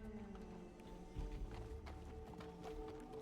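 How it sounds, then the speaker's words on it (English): Horse hooves clip-clop at a steady walking rhythm behind riders in a video game, faint and fairly distant against a quiet background. "And the local behind us on a horse"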